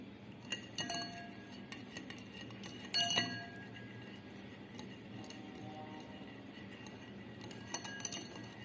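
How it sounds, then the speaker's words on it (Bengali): A fork or whisk clinks against a bowl while eggs are beaten with salt, giving scattered light taps and a few sharper clatters over a quiet room. "আমার ডিমটা বিট করা হয়ে গিয়েছে।"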